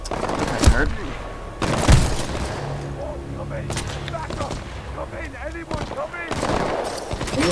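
Automatic weapon fire in the first-person shooter Titanfall 2, with sharp bursts near the start and steady rattling shots mixed with in-game voices throughout.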